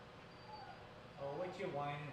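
A dog whines nearby in a few rising and falling high-pitched whimpers, growing louder toward the end and set against a quiet room.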